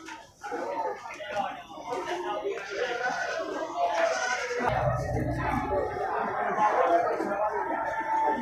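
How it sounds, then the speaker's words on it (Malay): Large billy goat bleating at a busy livestock market, its calls mixed into a dense crowd murmur and nearby chatter, with people talking throughout. "kambing bandot besar ini"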